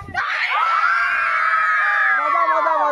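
A crowd of children at a Bihu game and prize-giving event shouts together in one loud, sustained burst that rises sharply and holds for a few seconds before trailing off.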